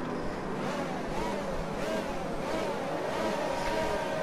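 Race cars in the F1 2019 video game roar off the line at the start of the French Grand Prix, a dense, steady blend of engine drones and rising revs held at an even loudness for the whole stretch.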